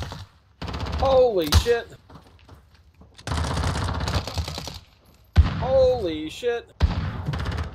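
Bursts of automatic gunfire crackle through a Call of Duty Modern Warfare match, loud and close in several rapid volleys, with a player shouting excitedly between and over the shots.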